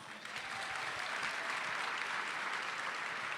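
An audience claps steadily and warmly through a school education event as a speaker is welcomed to the stage, the applause sustained and even with no voices over it.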